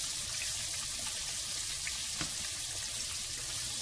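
Jack Crevalle fish frying in Mazola corn oil, a continuous bright sizzle and crackle held at steady loudness throughout, close and with no voices.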